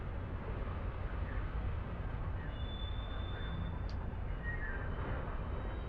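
A steady low rumble of a running train in a train simulator game, constant and loud throughout, with faint high tones drifting in now and then.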